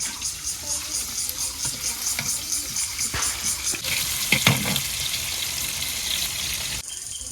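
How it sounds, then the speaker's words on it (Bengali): Chopped onion and garlic fry in oil for a tempering in a village kitchen, with a steady close sizzle, a rhythmic pulsing of stirring, and a burst of louder spattering midway before the sound settles. "তেল দিয়ে দিলাম, পেঁয়াজ কুচি রসুন কুচি দিয়ে দিলাম।"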